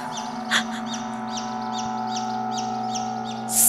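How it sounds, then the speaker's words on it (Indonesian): Baby chicks peep near a bedroom at night, a run of about eight short, high, evenly spaced chirps over a steady low hum, with a brighter burst near the start and a soft noise at the end. "Suara anak ayam"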